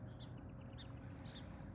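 A Carolina wren sings outdoors near a tall ship on the coast, repeating a quick high chirping phrase two or three times, faint and somewhat distant over a constant low rumble.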